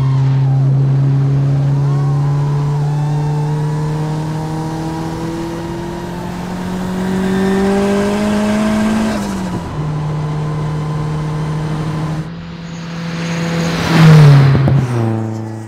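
A mid-1980s Fiat Uno Turbo i.e. MK2 engine revs steadily while driving, its pitch climbing and holding loud and close, then dropping through a gear change before rising again in a final strong rev.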